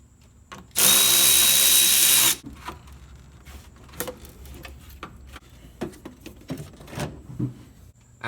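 A power tool with an 8mm socket whirs in one loud, steady burst of about a second and a half while removing the PCV piece at the valve covers of a 2004–2015 Nissan Titan, followed by scattered light ticks and clicks.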